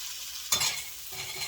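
Seasoned potatoes drop into a hot pan on a medium stove and give one brief burst of sizzling and stirring over a steady background hiss.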